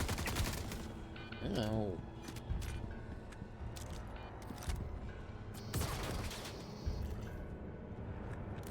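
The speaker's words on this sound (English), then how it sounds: "Shoot these guys in the side." Gunfire in the space shooter Star Citizen, with rapid bursts and sharp shots rattling loudly over a dense game backdrop, a brief rising whine in between and a man's short exclamation.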